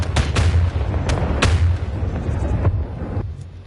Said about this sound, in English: You press buttons, you make fireworks happen.